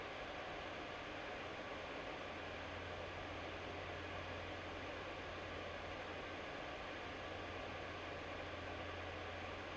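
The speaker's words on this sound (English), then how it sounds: "And this is what you can expect from the fans at 4000 RPM." Laptop cooling pad fans spinning at 4000 RPM, a steady, even broadband whoosh of airflow with a low hum underneath, constant and close with no other sounds.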